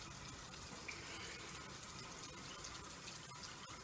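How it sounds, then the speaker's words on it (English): Water runs steadily from a household tap, a constant close rushing hiss with no pauses and no talking. "So usually I let the hot water run a bit and then I put a little bit of the cold water in."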